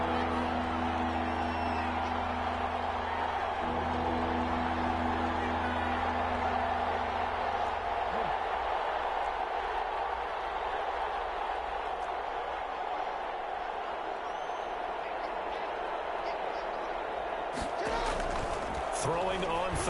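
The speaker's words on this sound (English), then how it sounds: "The crowd's not doing that O-line any favors. Home field advantage is really kicking in, making it very difficult for them to hear the snap count." Stadium crowd roaring steadily in a Madden football video game, a dense wash of noise that stays loud from start to finish, with sharper bursts near the end.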